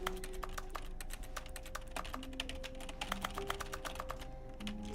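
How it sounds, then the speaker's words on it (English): Rapid keyboard key clicks from pressing keys while playing The Stanley Parable, a dense irregular run of sharp taps over a steady low hum, close and fairly even in loudness throughout. "It's weird how there's a keyboard key sound whenever I press E."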